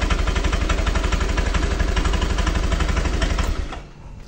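An older Honda Vario 125 scooter idles close by with a steady rapid mechanical chug for several seconds before the engine note suddenly drops away near the end.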